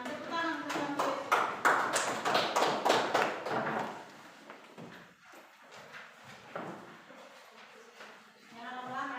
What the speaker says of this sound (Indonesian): Tepuk tangan untuk Santo Yosef.